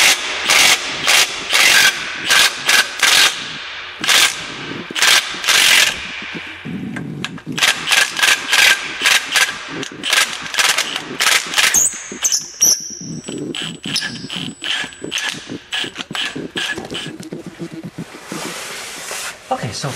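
A wrench ratchets out 17mm mount bracket bolts on a second-generation Nissan Xterra or Frontier 4WD, giving loud, close, rhythmic clicking bursts with brief pauses and a short hiss partway through.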